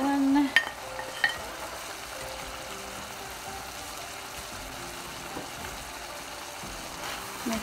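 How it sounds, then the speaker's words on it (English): Bitter melon stir-frying with pork in a pan, a steady soft sizzle throughout with a couple of sharp clatters of a utensil near the start, no voices. "And I'm going to add our bitter melon."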